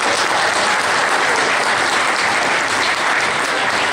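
A convention crowd at a costume contest gives loud, sustained applause, dense and even throughout with no break.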